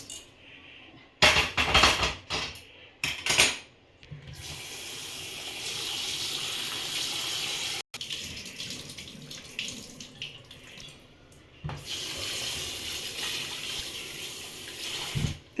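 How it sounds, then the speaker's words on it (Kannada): Roasted rice is rinsed under running tap water. A few short splashy bursts lead into a steady, close stream of water with soft sloshing, broken by a brief pause and then further swirling. "ಇದು ಬಿಸಿ ಆಗಿರೋ ಅಕ್ಕಿನ ತೊಳ್ಕೊಬೇಕಾ?"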